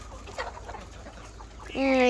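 Chickens cluck in short bursts near by while grazing on grass outdoors, then a louder, sustained call rises near the end over a steady outdoor background.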